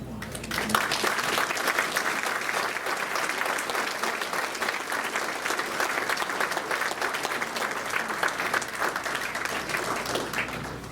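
An audience at a university athletics Hall of Fame ceremony gives a sustained round of applause for an honored women's team, the clapping even and continuous throughout, moderately loud and somewhat distant in the hall.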